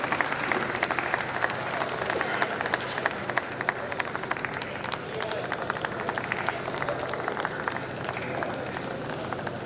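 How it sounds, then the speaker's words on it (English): Convocation audience applauding graduating students as their names are read, a steady dense patter of many hands clapping that continues without a break for nearly ten seconds, with faint crowd murmur beneath. "Please keep on clapping the students."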